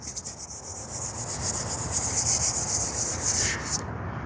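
A hand rubbing across rough, contaminated paint on a Silverado pickup, a close, steady gritty scraping hiss that swells and continues for several seconds before stopping, with no talk.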